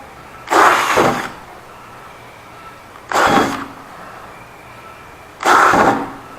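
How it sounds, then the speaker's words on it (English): A hole saw cutting button holes into a tufted headboard panel, three short, loud bursts of drilling, each lasting under a second and separated by quiet pauses. "So you use a hole saw."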